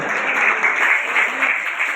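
An audience at a community donor announcement of the Rajgor Brahmin youth social group in Rajula claps steadily, a dense, fairly loud patter that runs the whole two seconds with no talk.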